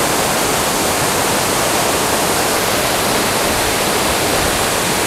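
Powerful waterfall near Bengoh Dam roaring at close range, a dense, loud, unbroken rush of falling water filling the whole clip with no talk.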